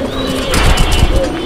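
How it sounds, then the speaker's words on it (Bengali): A pair of Ice Checker Damascene fancy pigeons coo close by in a brief, low, throaty burst against faint background chirps. "হচ্ছে আপনার আইস চেকার ধামাসিন কবুতরের একটা জোড়া"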